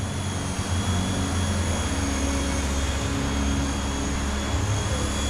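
A Blade Nano S3 small RC helicopter flying indoors in an atrium makes a steady, loud whirring rotor drone that fills the space continuously, with a constant high whine and no pauses.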